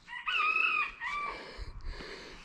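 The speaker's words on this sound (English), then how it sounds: "As you hear the chickens" A rooster crows loudly and close by among chickens on a rural Tennessee property, one long drawn-out call followed by a shorter second crow, with some low rumbling underneath.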